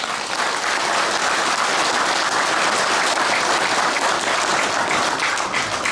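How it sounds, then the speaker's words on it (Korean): Memorial ceremony for Shin Chae-ho, an audience clapping steadily and warmly for several seconds, a dense even wash of applause indoors with no speech on top. "박수로 한번 격려해 주십시오."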